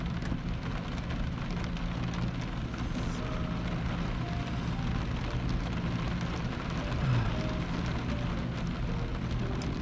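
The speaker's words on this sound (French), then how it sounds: "Il pleut encore." Steady rain patters on a surface, with a dense continuous hiss and low rumble throughout, no voices.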